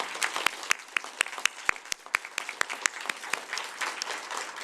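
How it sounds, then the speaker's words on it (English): A crowd applauds at a UNICEF World Children's Day event, with dense, lively clapping full of sharp individual hand claps, sustained evenly for several seconds. "A huge round of applause for all of you and your support for children."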